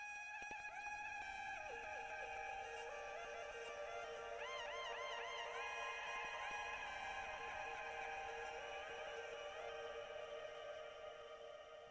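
Vocal sample chops, each one individually pitched to stay roughly in key, play as a steady electronic layer of sustained, stepped tones with gliding pitch bends around the middle, in an ambient drum-and-bass or breakcore production.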